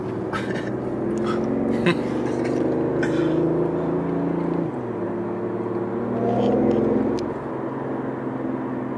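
A BMW i8 sports car's engine hums and drones inside a tunnel, a steady close-up interior tone that drops in pitch partway through, then swells again.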